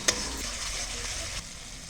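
Spice paste mixed with tomato paste fries in hot oil, giving a steady, even sizzle with a faint stirring scrape near the start and no voices.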